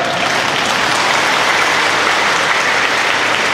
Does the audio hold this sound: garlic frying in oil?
no